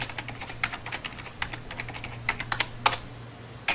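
Rapid, steady keystrokes on a computer keyboard as an IP address is entered during network setup, close and clear with a few louder key hits and no talking.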